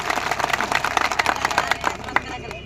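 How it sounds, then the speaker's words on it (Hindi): An audience at a political gathering claps to welcome a guest, giving a dense, steady patter of many hands nearby that tapers off toward the end. "मैं चाहूंगा ताली बजा के आप भंवर साहब का स्वागत करें"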